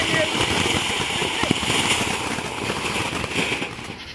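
Ground sparklers burning inside a box, a steady dense crackle and fizz with sharp popping bursts throughout, close and loud, while people chat over it.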